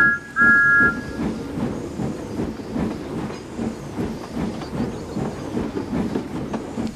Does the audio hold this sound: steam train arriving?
yes